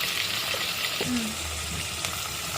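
Steady loud sizzling of onions and spices frying in hot oil for chicken wing pulao, a continuous hiss close to the pan with a faint stir or clatter partway through.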